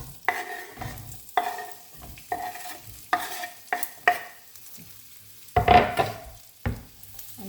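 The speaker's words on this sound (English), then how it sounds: "These are the sliced onions. I'm going to just add them to the oil." Sliced onions are stirred in hot oil for a Kerala-style chicken curry. About nine distinct scraping stirs land in an uneven rhythm over a quiet background sizzle, and no one speaks.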